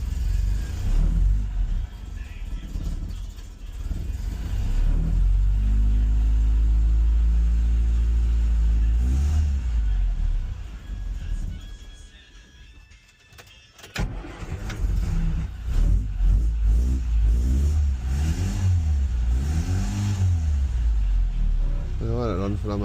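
Ford Escort MK3 bantam pickup engine idling steadily after starting, a loud close rumble with a brief dip and a blip of revs midway, with someone talking over it at times.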